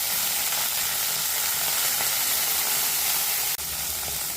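Beans and green peas fry in hot oil, giving a loud, steady sizzle that holds for several seconds with one brief break near the end.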